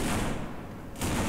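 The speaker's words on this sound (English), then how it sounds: "Gunfire, gunfire." A dense burst of rapid gunfire in the video game No More Room in Hell, loud and continuous, dipping briefly before surging again, with no talking.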